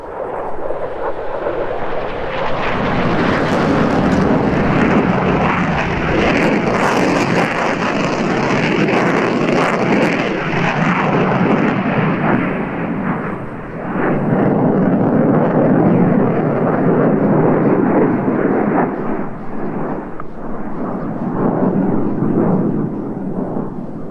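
A Saab Viggen jet flies a high-speed pass in DCS World. It roars loud and broadband, rising to a sustained blast, dipping briefly, then surging again.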